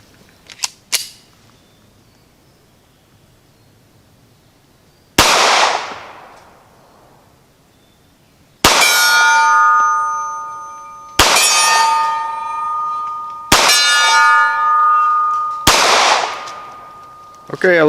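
Taurus GX4 pistol rounds striking a steel target at 35 yards: a few separate, sharp metallic clangs with ringing tails, each a few seconds apart, after faint earlier clicks.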